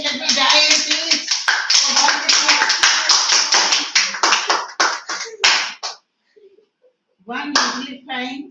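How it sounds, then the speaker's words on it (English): A classroom group claps loudly and steadily for several seconds during an English lesson, dense rapid hand claps that stop abruptly, followed by a short pause and a brief burst of further clapping or voices. "Give him a big clap for everything."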